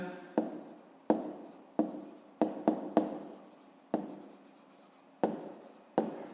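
Pen writing on paper during a fifth-grade maths exercise, a run of quick scratchy strokes with sharp starts and brief pauses, close and fairly quiet, no talking.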